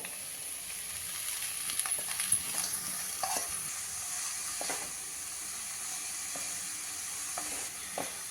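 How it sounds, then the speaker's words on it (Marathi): Chopped, washed spinach being stirred into sautéed, translucent onions in a pan for spinach soup, with a steady hiss of sizzling and several distinct spoon scrapes and clatters, moderately close and without voices. "आता त्याच्यामध्ये हा चिरून धुवून ठेवलेला पालक घालूया"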